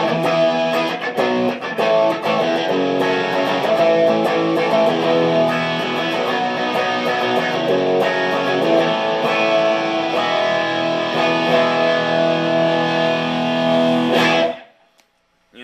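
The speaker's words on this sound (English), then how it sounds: "Come up next is one of my main squeezes again, the Ibanez TS9 Tubescreamer" Electric guitar played through an Ibanez TS9 Tube Screamer overdrive pedal, giving a light rock and blues distortion; loud, sustained chords and riffs ring steadily for about fourteen seconds, then cut off abruptly.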